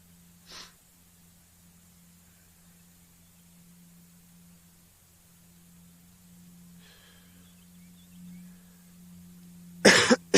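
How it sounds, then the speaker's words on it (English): A single cough at the start, then near silence over a low hum, ending with a couple of loud, close coughs. "I hate that I keep coughing"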